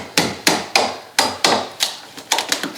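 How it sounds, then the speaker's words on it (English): Sharp, ringing strikes of a chisel splitting old wooden roof shingles on a cabin roof, about eight close, loud blows in an irregular rhythm, a few coming in quick pairs, with no talk. "it helps to take the chisel and split the pieces out"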